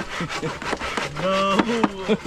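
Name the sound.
saw cutting wood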